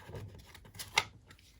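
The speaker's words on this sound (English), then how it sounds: "So we'll shuffle the Wandering Monster deck" Faint, papery rasping of a Wandering Monster card deck being shuffled during a tabletop session of the board game Bardsung, in a few short rubbing bursts with one brief sharper flick near the middle.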